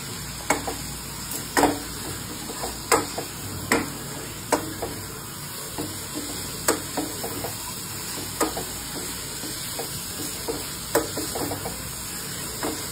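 Chicken being stirred with spice masala in a pan, a spoon scraping and knocking against the pan in a steady rhythm over a faint background sizzle, close and fairly quiet with no talking.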